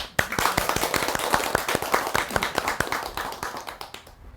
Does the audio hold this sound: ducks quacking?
no